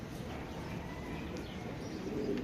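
A male pigeon with mottled wings coos in low, soft, repeated murmurs close by, with a steady room hum under it and faint chirps around it.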